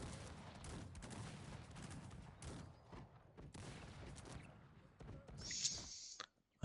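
Multi-barrel cannons fire in the strategy game Cossacks 3, a rolling volley of dense, crackling blasts that thins out toward the end, followed by a bright high chime.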